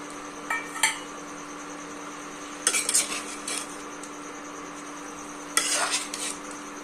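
Green chilies stirred into potatoes in a pan, with a few separate bursts of spoon scraping and clinking against the cookware over a low steady hum and faint sizzle, no talking.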